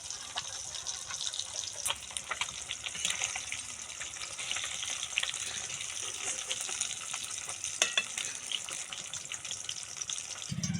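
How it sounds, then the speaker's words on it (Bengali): Fish frying in oil gives a steady, dense sizzle with scattered crackles, close and continuous throughout with no talking. "দেখুন মাছগুলো ভালো করে ভাজা ভাজা হয়ে গেছে এইবার তুলে নেব"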